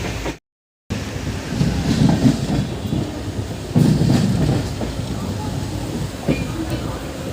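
The Howrah–Balurghat Express rolls into Bandel railway station, heard from on board as a steady, loud rumble with rattling wheel clatter after a brief dropout at the start.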